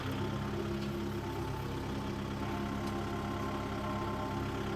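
Kubota MU5502 tractor with a water tank, its diesel engine running at a steady low rumble throughout, close and continuous with no speech.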